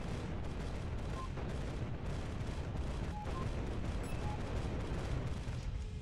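Artillery fire and explosions from the naval combat game Capital Command, a dense, continuous barrage of booms and rumbling blasts that fills the whole stretch at steady loudness.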